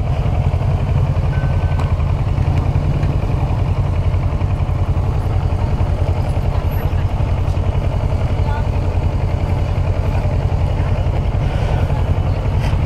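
A motorcycle with its engine running, pushed along during a Malaysian class B motorcycle licence riding test circuit, gives a steady, loud, close engine drone throughout.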